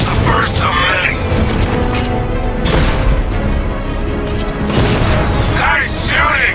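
Gunfire and explosions in the video game Batman Arkham Knight: dense, loud bursts of booms and sharp cracks under a continuous mechanical din, with heavier blasts near the start, around the middle and toward the end.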